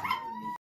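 Excited dogs playing rough indoors give a brief, close, tense canine vocalization, a strained whine-like yelp lasting under a second that cuts off abruptly.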